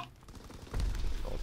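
A video game enemy fires at the player, heard as a sudden low, booming report about halfway through that rumbles on after a quiet, hissy lead-in, with no voices.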